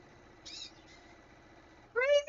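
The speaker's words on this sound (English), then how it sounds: "Crazy bird!" A bird gives two calls, a short high cry early and a louder, rising call at the end, over a quiet indoor background.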